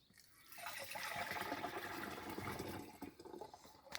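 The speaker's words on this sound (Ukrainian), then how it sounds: "Виливаємо препарат." A pesticide preparation pours into a garden sprayer tank already three-quarters full of water, a steady splashing gush swelling after a brief quiet start, then thinning out toward the end.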